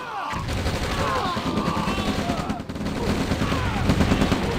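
Gunfire and artillery from an OpenRA Red Alert video game battle, with dense rapid machine-gun rattling and explosive booms continuing steadily under a speaking voice.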